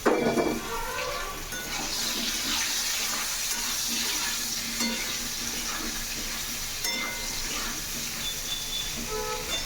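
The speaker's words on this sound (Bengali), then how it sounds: "এগুলো একটু ভাজা ভাজা হয়ে যায়।" Steady, crackling sizzle of eggplant and potatoes frying in a hot pan with black cumin seeds, continuous throughout with no voices.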